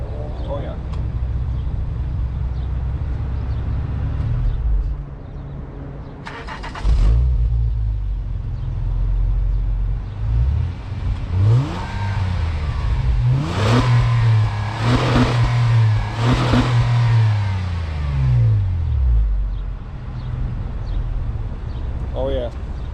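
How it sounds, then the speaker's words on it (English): Stock exhaust of a 2017 Honda Accord Coupe EX-L V6 revving repeatedly, deep rising and falling engine sweeps loud and close, with someone talking over parts of it. "I want to give you guys a little exhaust clip. Just like this. Oh yeah. So this is the stock exhaust."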